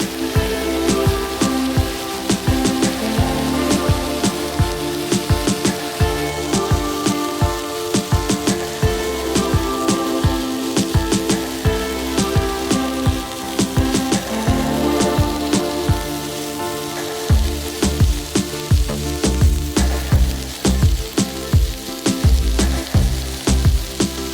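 Chicken pieces for a Kolkata-style kathi roll sizzle loudly and continuously in hot oil in a pan, a dense crackling spatter with occasional stirring clinks, with no voices.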